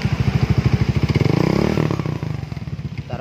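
Yamaha Xeon motorcycle fitted with a racing exhaust revving up close, a pulsing throaty idle that climbs in pitch as the throttle opens, then settles back with a rough burble.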